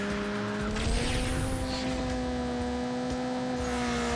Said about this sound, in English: Now it actually sounds like a rotary.